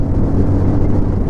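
Bajaj Pulsar 220F motorcycle, a 2026 model, accelerating up through its gears, giving a steady loud low engine drone mixed with wind rush over about a second and a half with no voices.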